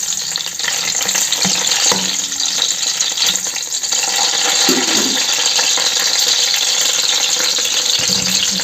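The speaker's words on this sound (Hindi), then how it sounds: "अब इसमें हम पनीर शामिल कर रहे हैं। और थोड़ा सा इसको फ्राई करना है।" Paneer fries in hot oil in a kadai with a steady, loud, close sizzle, broken by occasional stirring scrapes of a spatula.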